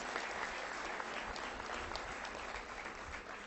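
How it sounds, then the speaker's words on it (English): Conference audience at a national gathering of CA students applauds volunteers and team members. Continuous, fairly faint clapping from a large crowd sounds steady throughout. "A round of applause for all the volunteers, all the team members."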